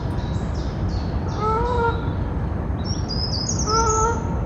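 A carrion crow in Paris gives two short series of calls, a few seconds apart and moderately distant, over a steady outdoor background hiss.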